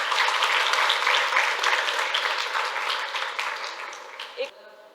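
Loud applause from an audience of students at a youth-day and Independence Day gathering, dense clapping that holds strong for several seconds and then thins and fades out near the end.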